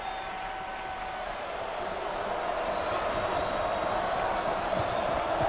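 Crowd noise fills a basketball arena during the NCAA ACC Tournament second-round game between Notre Dame and NC State, a steady roar that swells slightly with scattered bounces and shoes underneath.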